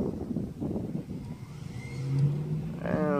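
A Traxxas 4Tec 2.0 Ford GT radio-controlled car, converted to rear-wheel drive, runs around a track with a steady electric motor whine that rises in pitch toward the end.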